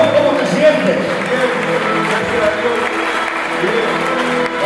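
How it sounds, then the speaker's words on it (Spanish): A church congregation claps during a testimony at an evangelistic campaign service, loud steady applause running the whole time beneath voices and a sustained tonal sound, likely music or singing. "¡Dale un fuerte aplauso!"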